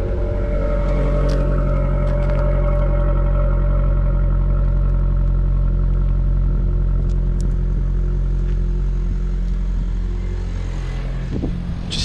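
A Saab car engine with over 202,000 miles runs steadily at close range, a loud continuous low drone with a faint mechanical whine and a few small clicks, with no one speaking.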